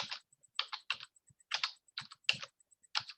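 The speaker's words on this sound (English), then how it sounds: "I was typing on the chat." Keys clattering on a computer keyboard while someone types in an online chat during a lesson, in quick uneven bursts of clicks with short pauses, fairly close and alone.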